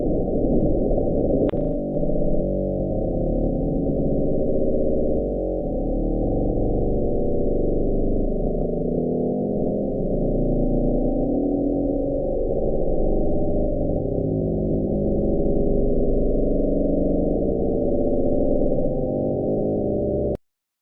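The Bloop, a mysterious low-frequency underwater ocean sound: a low, continuous rumbling hum sustained for about twenty seconds, steady and loud throughout, with a brief faint higher blip near the start.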